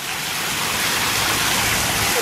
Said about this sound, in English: Look, a waterfall.